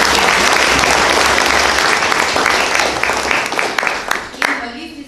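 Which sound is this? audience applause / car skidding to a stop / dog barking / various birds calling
audience applause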